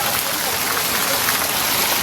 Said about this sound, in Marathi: बाहेर जोराचा पाऊस चालू आहे